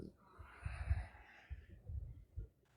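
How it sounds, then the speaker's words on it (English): A pet dog snorting and snuffling close by, several short rough nasal bursts spaced irregularly over a few seconds, fairly quiet and alone. "you can just listen to my dog snort"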